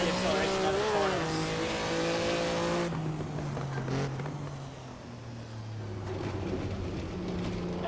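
A race car in a racing sim game revs hard and climbs through the gears, accelerating out of corners. The engine tone rises steadily and stays loud and close, and a voice talks over it.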